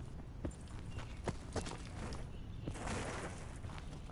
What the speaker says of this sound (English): I heard their footsteps, so be careful.